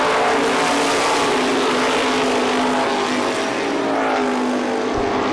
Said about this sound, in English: Here comes Lightning Lou as Sparky's off the pace.